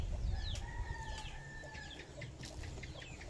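Backyard chickens clucking near a feeder scattered with feed, several birds giving short overlapping clucks and calls at close range over a low rumbling background.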